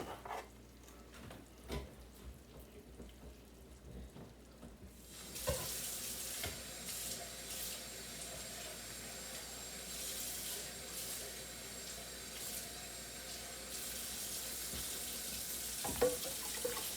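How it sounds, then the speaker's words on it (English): Tap water runs into cans, starting quietly and then becoming a steady, close, hissing stream that fills for the rest of the stretch. "Some water in each can."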